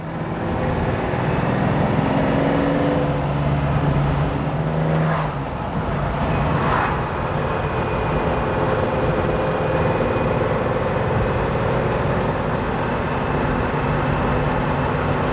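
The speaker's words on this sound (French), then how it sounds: "Le V12 qui gronde." Lamborghini Jarama V12 engine rumbling steadily while the car drives at about 2000 rpm in fourth gear, a continuous, fairly loud, even drone heard close up with no talking.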